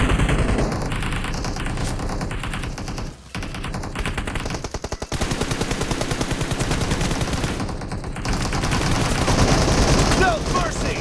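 Rapid automatic gunfire from PUBG gameplay rattles in dense, loud bursts, with brief gaps and renewed volleys throughout.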